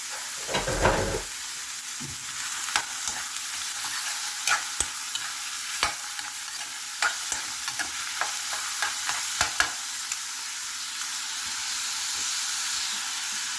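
Ground pork sizzles and fries in a pan with a steady hiss, while a utensil stirs and scrapes at intervals, close and continuous without talk.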